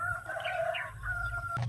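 Zampen native chickens cluck and crow close by, with overlapping calls over a short stretch and a low farmyard hum underneath.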